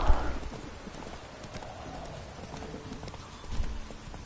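Hooves clop in a steady trotting rhythm in the video game The Witcher 3, with a horse's snort or whinny at the start and faint talk in the background.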